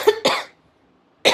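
A woman with a persistent cough gives two quick, harsh coughs close to the mic, falls silent for a moment, then coughs once more.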